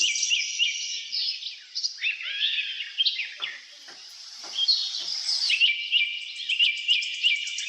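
Several small colourful birds chirp and tweet almost without pause while they drink water, the calls near and fairly loud, with a few brief soft knocks underneath and no voices.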